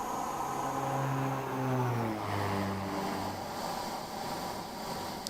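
A King Air 350 turboprop, modelled by AirFoillabs in X-Plane 12, makes a steady propeller flyby whose pitch slides downward as it passes, a sustained drone with a high whine and no talk.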